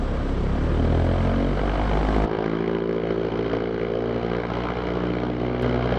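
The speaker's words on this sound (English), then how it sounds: "And like Sebastian's saying, we're in the 750 Super Duty. We got the Aero Sport 205. And we'll run it up to 1700" An Aero Sport 205 engine on a STOL CH 750 Super Duty airplane drones loud and close during a run-up, its steady propeller roar dropping to a lower, rougher tone partway through and holding there.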